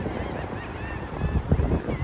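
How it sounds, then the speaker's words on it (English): Geese honking by open water outdoors, several calls overlapping against steady wind noise on the microphone, growing somewhat louder toward the end. "And the birds, I learned to appreciate them"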